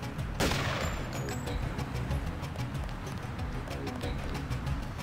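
In the video game Deus Ex, one sharp, loud gunshot cracks near the start, then a rapid regular patter of further shots or footsteps continues under game ambience.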